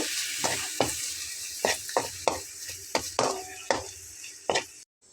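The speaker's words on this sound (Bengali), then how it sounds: "ধনিয়া পাতাটা দিয়ে একটু হালকা নেড়েচেড়ে নেব" Spoon stirring bitter gourd curry with coriander leaves in a pan, a series of sharp scraping strokes about every half second over a soft sizzle, close and fairly loud.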